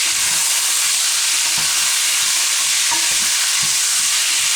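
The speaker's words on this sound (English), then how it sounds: "So I'm going to fry this off" Chopped pork frying in a pan for sweet and sour pork, a steady broadband sizzle throughout with occasional soft stirring knocks, close and fairly loud with no talk.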